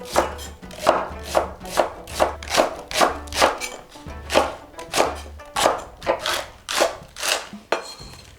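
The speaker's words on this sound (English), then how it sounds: "Okay, let's cut this in half. Diagonally slice it." A knife slicing a vegetable diagonally on a wooden cutting board for kimchi jjigae, a steady run of about fourteen crisp, evenly spaced chops, close and fairly loud, with no voices.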